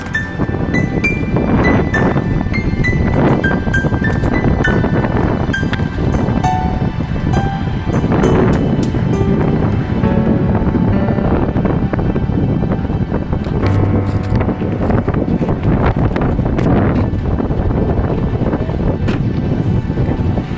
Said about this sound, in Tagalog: Mahangin dito guys.